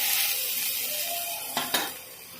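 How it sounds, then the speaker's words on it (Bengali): Chopped ridge gourd going into a pan of frying potatoes, a bright continuous sizzle of oil followed by two quick clinks of a utensil against the pan near the end. "ভাজা হয়ে গেছে, দিয়ে দিচ্ছি কেটে রাখা ঝিঙেটা।"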